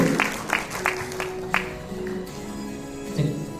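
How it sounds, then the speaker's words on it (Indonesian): An audience at an insurance talk gives Pak Kasul a brief round of applause. A few distinct claps come first, then scattered clapping mixed with murmuring voices in the room. "tepuk tangan sekali lagi untuk Pak Kasul"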